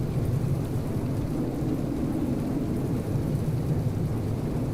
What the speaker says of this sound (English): Oh, it started raining now.